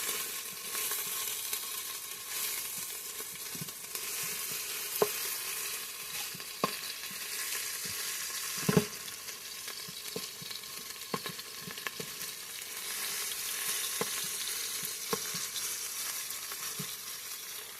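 Frozen hamburger meat frying in an Instant Pot on saute mode, a steady broadband sizzle throughout with occasional small pops and crackles, no talking.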